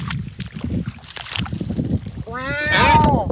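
Water sloshes and splashes as someone wades in while searching for lost toy animals, with steady churning under faint voices and a rising whistling tone near the end.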